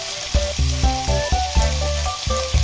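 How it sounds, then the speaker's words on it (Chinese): Pork ribs pan-fry over high heat for sweet and sour ribs, a steady close sizzle of hot oil that runs without a break, with low tonal tones layered underneath. "排骨全部下锅后开大火煎，煎到一面金黄后翻个面，接着煎至另一面。"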